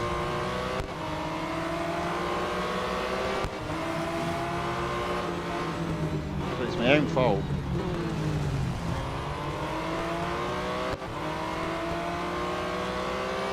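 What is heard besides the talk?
race car engine driving in the video game Real Racing 3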